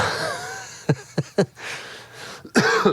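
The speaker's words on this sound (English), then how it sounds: "I have to cough right away when you say that." After a moment of faint talk, a few short, sharp coughs come in quick succession, followed by a louder burst of coughing near the end.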